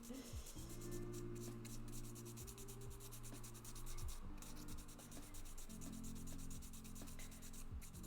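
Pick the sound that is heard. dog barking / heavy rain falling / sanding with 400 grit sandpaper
sanding with 400 grit sandpaper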